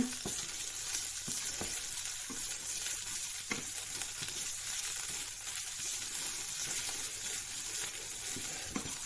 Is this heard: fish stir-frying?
yes